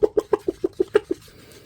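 A person imitating a rooster with a rapid, evenly spaced series of about eight clucking calls, close and loud, ending abruptly.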